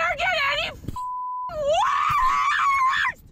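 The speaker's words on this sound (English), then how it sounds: "Then we got the libs screaming in a car." Several people scream and wail inside a car in loud, drawn-out, pitch-bending cries. A steady bleep tone briefly covers the middle before the screaming resumes and then stops suddenly.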